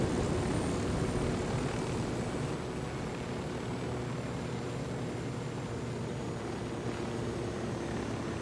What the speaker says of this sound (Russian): дрон в полете.